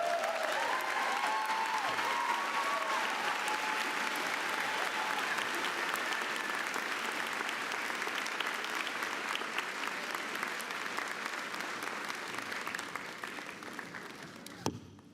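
An audience at a college of education graduation ceremony applauds a student speaker. The clapping is sustained and even, with faint crowd murmur and cheers, and it fades gradually before a final sharp knock.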